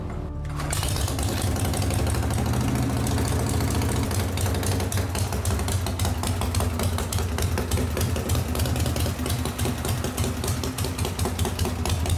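A rebuilt custom Harley-Davidson Shovelhead motorcycle engine fires up after a brief quiet moment and settles into a steady, loud, rhythmic idle with a lumpy mechanical beat that continues throughout.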